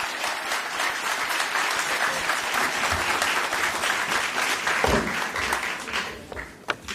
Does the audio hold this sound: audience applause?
yes